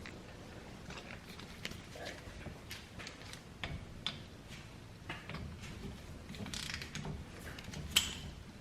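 A ratchet turns while tightening brake caliper bolts on a 2004–2010 Toyota Sienna, giving faint repeated clicking and ticking at uneven intervals over quiet mechanical background.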